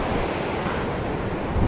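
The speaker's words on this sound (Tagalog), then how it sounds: "Lumakas ang alon mga Lodi," Strong sea waves at a coastal fishing spot in Oman, a close, loud wash of surf with heavy wind noise on the microphone, continuous for the whole brief moment without voices.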